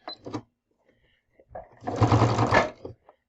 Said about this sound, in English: Then you're going to start sewing it down.